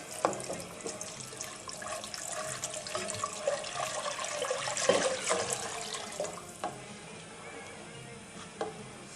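Water poured into a pot of Turkish dough soup after tomato paste has been fried, a continuous splashing stream at close range, moderately loud and swelling around the middle, with no voices.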